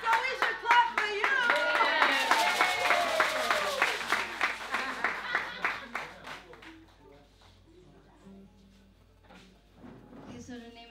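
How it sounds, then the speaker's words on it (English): Audience on a field trip clapping for a guest, dense rhythmic handclaps mixed with excited voices that taper off into scattered talk. "So we should clap for you."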